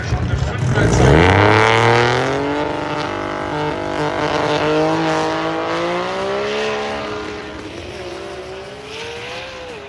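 Drag racing car making a hard run down a German drag strip, loud engine whine climbing through rapid gear changes and fading with distance, with an announcer talking over it.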